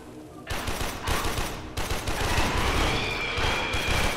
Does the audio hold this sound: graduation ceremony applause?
no